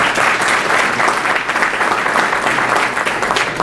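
A business forum crowd gives a round of applause, many hands clapping in a steady, full, fairly loud burst that holds evenly from start to finish without voices.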